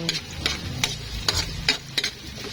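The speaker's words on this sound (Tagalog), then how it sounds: "Gisa-gisa lang po natin ito guys." Garlic and onion sizzle in a hot pan while being stirred, giving a soft frying hiss broken by scraping strokes of a utensil every half second or so, close and fairly quiet, with no talking.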